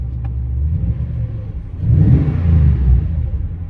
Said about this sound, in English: at an idle with the window down, you can hear that it has just a touch more exhaust note than it did before